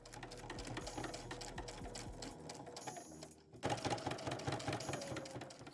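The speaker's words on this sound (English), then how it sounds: "Then I'm going to continue stitching." A sewing machine runs steadily, stitching velcro around the edges of an embroidered patch, with a brief pause for a pivot with the needle down before the fast mechanical rattle resumes, close and loud throughout.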